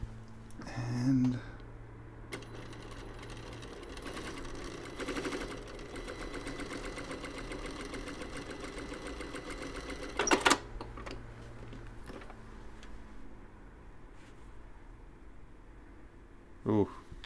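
Juki sewing machine set to three stitches running in a few short bursts, a faint mechanical whir and clatter, with quiet sounds of handling in between.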